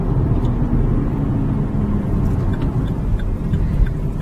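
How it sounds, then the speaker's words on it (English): Boy racer's car with a dump valve, cruising through central London: a steady, loud low engine drone from inside the cabin, rumbling continuously without distinct rev peaks. "This is a boys' racer's car"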